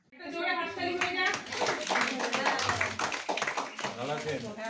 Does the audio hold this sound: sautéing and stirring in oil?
no